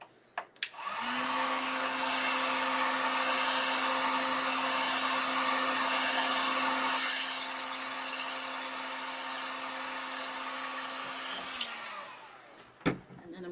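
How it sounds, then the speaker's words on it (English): A heat tool warms glue to re-attach an arm of a ceiling fan. It blows with a steady, close whooshing hum for about six seconds, then drops to a softer, lower level before switching off with a few clicks. "I'm going to heat this glue up."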